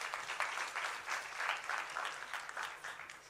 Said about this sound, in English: Please clap for him first.